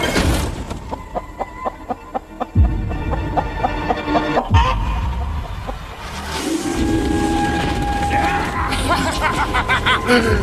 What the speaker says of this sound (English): Oh, this chicken's actually pretty chill.